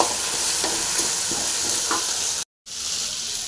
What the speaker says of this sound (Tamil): இது கருவேப்பிலை, புதினா, கொத்தமல்லி, உப்பு இதையும் சேர்த்து நல்லா ஃப்ரை பண்ணிடலாம்.